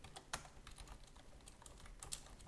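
Faint, close computer-keyboard typing while writing PHP code: a quick, irregular patter of light key clicks with a few sharper taps.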